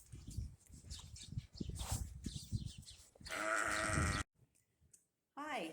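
After muffled talking and shuffling, a sheep lets out one long, loud bleat nearby, and a shorter bleat follows after a brief silence.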